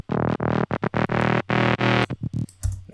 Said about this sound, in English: You get a bunch of like phasing, which creates these movements.